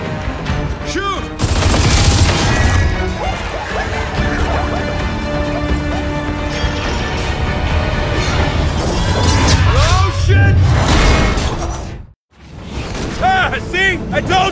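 Gears of War 4 combat with dense bursts of gunfire, crashes and impacts amid a loud musical score, while voices shout over the action, ending with a brief drop to near silence before the noise resumes.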